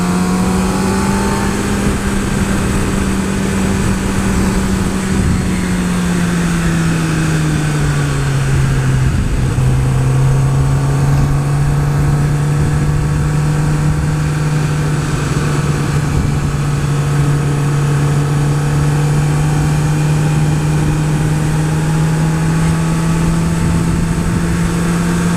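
2016 Kawasaki ZX-10R motorcycle engine running hard, a loud sustained drone that dips in pitch as it shifts, then climbs and holds steady, with wind rush behind it and no voices.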